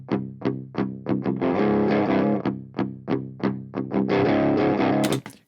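Distorted electric guitar through an Orange Rocker Verb amp model with no reverb, played as sharp, palm-muted chugs alternating with sustained crunchy chords, loud and up front, ending on a final ringing hit.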